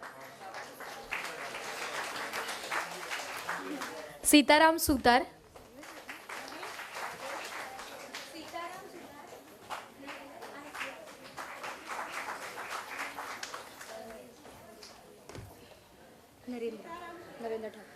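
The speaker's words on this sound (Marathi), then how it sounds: "टाळ्या थांबू नका देऊ" Audience applause at a Vishwakarma honour ceremony, a steady broadband patter running under an announcer calling out names over a loudspeaker, with a louder burst near the middle.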